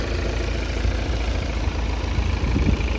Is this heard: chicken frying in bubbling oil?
no